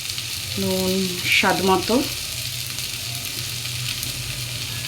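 Spice paste fries in oil with salt for a Bengali fish curry with papaya, a loud continuous sizzle and crackle running the whole time, while someone speaks briefly over it near the start.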